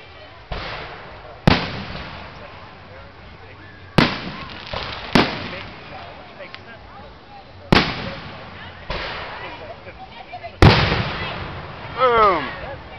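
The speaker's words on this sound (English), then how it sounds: "Rexville fireworks here at Rexville, as we call it." Fireworks at a backyard display in Rexville burst overhead in a series of sharp, loud bangs a few seconds apart, some followed by crackling, with people talking between blasts.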